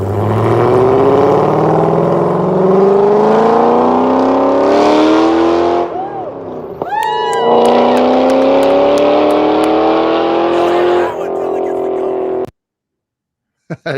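A car engine revs hard and pulls away, loud rising and falling engine pitch under excited talk, then the sound cuts off abruptly.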